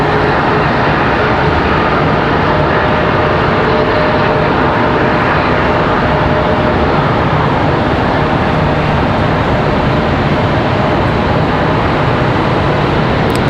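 A Southwest Airlines jet taxiing at Charlotte Douglas International Airport gives off a constant, loud, close engine roar and whine that holds steady the whole time, with no talking.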